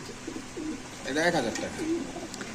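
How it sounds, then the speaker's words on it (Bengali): Racing pigeons coo up close in a short burst of low, throaty rolling calls, with quieter murmuring sounds before and after. "এখানে আছে নয় নম্বর কবুতরের কাছে একজোড়া রেস করার রেসের কবুতর"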